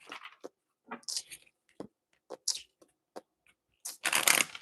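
Tarot cards being shuffled in several short riffling bursts, close and crisp, ending in a longer louder flurry.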